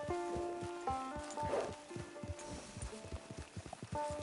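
Horse hooves clip-clop at a steady walking pace in the Red Dead Redemption 2 Online video game, close and fairly loud, with game music and tones running underneath.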